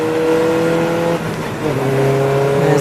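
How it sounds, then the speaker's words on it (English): Interceptor racing car in the 750 Motor Club Birkett Relay at Silverstone GP circuit, its engine droning loudly with steady harmonic tones that dip briefly and then rise again as it passes close by. "There's the Interceptor racing car."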